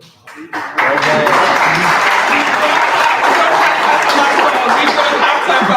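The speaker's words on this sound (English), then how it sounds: "don't have time for applause" An audience at a prize giving bursts into loud, sustained applause after a brief quiet start, with a little laughter and chatter mixed in.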